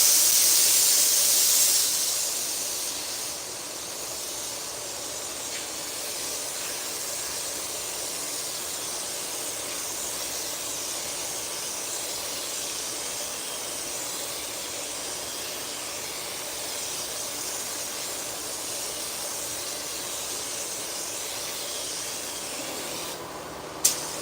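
A spray gun lays a wet coat of paint during a night of pattern painting, giving a steady, continuous hiss that runs nearly unchanged for over twenty seconds, ending in a brief sharp click.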